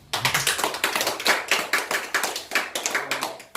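A small audience at an indoor speech and hypnotherapy session claps in sharp, close, slightly uneven bursts, several hands striking quickly together for a few seconds, with no talking over the claps.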